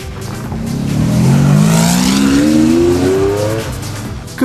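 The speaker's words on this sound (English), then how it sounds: "Capristo develops and builds bespoke exhaust systems for sports cars such as Ferraris, Lamborghinis and Maseratis." A sports car fitted with a bespoke Capristo exhaust system sweeps past loudly, its engine note rising steadily in pitch under acceleration, swelling to a peak and then fading slightly as it passes, with no voices.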